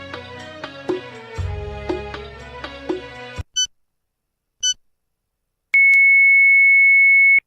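Music plays, then falls silent; two short electronic bleeps follow, and finally a long, steady, high-pitched beep tone signalling iftar time sounds loudly on its own, on a 2017 broadcast.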